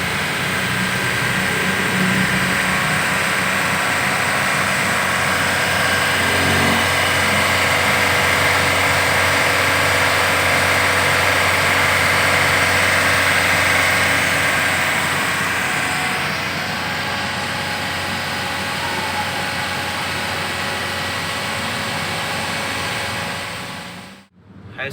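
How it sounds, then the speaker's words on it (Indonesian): A 2014 Toyota Vios manual car engine idles steadily and loudly during carbon cleaner tuning, a constant droning hum that cuts off abruptly at the very end. "Tuning carbon cleaner saat mesin hidup."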